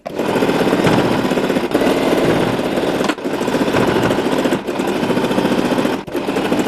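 A sewing machine stitches over a chunky fabric tab on a pen holder, going forwards and backwards: close, loud rapid mechanical whirring in bursts of roughly one and a half seconds with brief pauses between.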